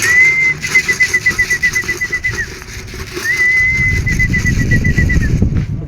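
Pigeons gather to be fed, cooing and fluttering close by, while two long, pulsing whistle-like tones sound one after another over a rising rush of flapping wings.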